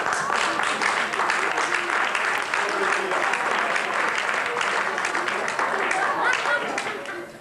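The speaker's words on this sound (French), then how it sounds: "J'aimerais qu'on applaudisse ici." Sustained audience applause fills the room at a live French-language talk, a dense, steady wash of many hands clapping that holds loud and even before tapering off near the end.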